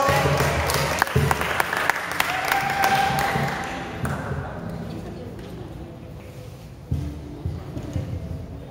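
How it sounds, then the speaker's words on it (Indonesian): An audience at a church youth sermon-reading contest bursts into loud clapping that gradually fades into scattered claps, with a brief renewed flurry near the end. "Kasih aplaus."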